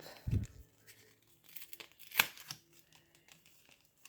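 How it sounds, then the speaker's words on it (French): A small paper-wrapped gift package holding watercolour paints is torn open, with a sharp rip followed by scattered soft crinkles and rustles of paper, close and quiet. "Ici, c'est un petit paquet cadeau. Alors, on va l'ouvrir ensemble."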